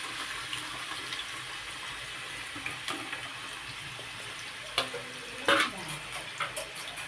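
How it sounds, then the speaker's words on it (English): Potatoes sizzle in hot oil in a pan with a steady hiss, punctuated by a few scraping stirs and clinks near the end, no talking. "So here I pour some oil and then I will put potatoes in it."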